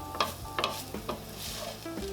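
A spoon stirs tomato paste into browned hamburger meat in a pan, giving several scraping strokes over a soft sizzle with no talk.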